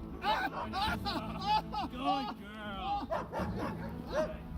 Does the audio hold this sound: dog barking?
yes